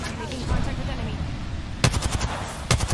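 Gunfire in an Apex Legends-style shooter game, likely from an R-99 submachine gun: two sharp bursts of shots ring out over a steady background rumble, one near the middle and another toward the end.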